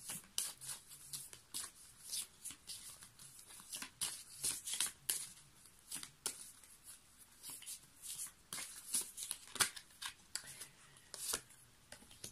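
Playing cards shuffled and drawn by hand close up, a quick run of crisp riffling snaps and sliding flicks repeating in bursts, mostly alone with no talk.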